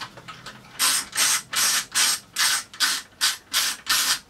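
A power screwdriver backs screws out of a Nintendo GameCube console, giving a series of about nine short, loud whirring bursts in an even rhythm with brief pauses between them, close up and with no talk.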